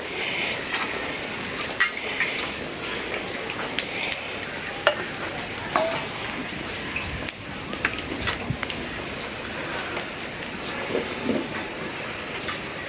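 Mustard oil sizzles in a hot kadai before onions go in, a constant hissing crackle heard up close with occasional sharp ticks and faint movement in the background.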